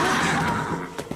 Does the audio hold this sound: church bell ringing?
no